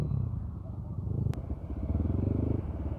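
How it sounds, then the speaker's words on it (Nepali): A modified KTM Duke 250 with its dB killer removed rumbles close by at idle. The exhaust is loud and throbbing and swells slightly with a blip, with no talk over it. "ड्युकको चाहिँ डिपी किलर निकालेको छ के यो पनि अति लाउड छ"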